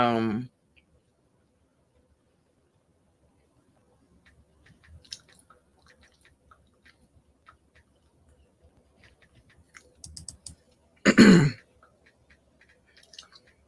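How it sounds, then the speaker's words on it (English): Someone typing while screen recording: faint, scattered clicks tap out irregularly across a quiet stretch, with brief bursts of a voice at the start and near the end. "That clicking that y'all hear is this broad typing while she's screen recording."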